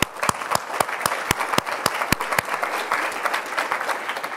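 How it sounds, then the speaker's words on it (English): Applause from a MySQL conference audience, a moderate crowd clapping with a few sharp, distinct near claps standing out over the steady patter, lasting several seconds. "So let's give Colin a round of applause"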